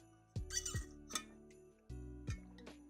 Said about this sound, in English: Hashtag squeaky chair.